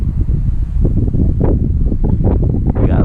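Strong outdoor wind buffets the microphone at an RC flying field where an E-flite Piper Cherokee is being flown, a loud, continuous low rumble with gusty surges.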